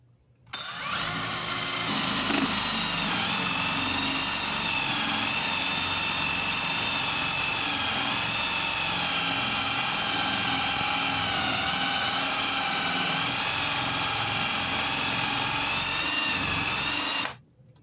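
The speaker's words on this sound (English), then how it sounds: "I drill a hole here at 7¼ inches down from the top." A power drill with a hole saw whines steadily through wood for about sixteen seconds, loud and close, with no pauses.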